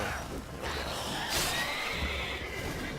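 A horse whinnies in The Witcher 3, a long, loud neigh that rises and falls over a steady background of game ambience and music.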